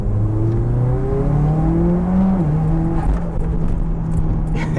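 A Mitsubishi Evo X with a G25 660 turbo pulls hard, its engine droning and rising steadily in pitch, shifting once mid-pull, loud and close, with faint turbo spool and flutter chatter near the end.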